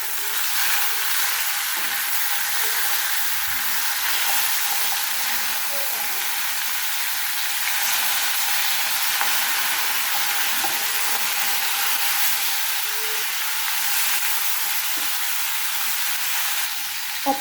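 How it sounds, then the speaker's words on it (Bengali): Rui fish fries in hot oil in a pan after being flipped to brown its other side. A steady, even sizzle and hiss carries on without a break for the whole stretch, close and fairly loud. "অপর পিঠটিও আমি এভাবে লাল লাল করে ভেজে নেব।"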